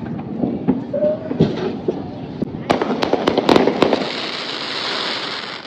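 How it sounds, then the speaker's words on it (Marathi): Rassi bomb firecrackers explode in a rapid string of sharp cracks during a Diwali night, crackling loudly for a couple of seconds before settling into a hissing wash, with brief voices earlier. "हिच्याने एक रशी पण लागत नाही"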